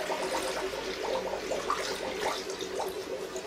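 Warm water at 60 degrees is poured into the two tanks of a soft ice cream maker machine, giving a steady, close splashing rush that continues throughout without any voices.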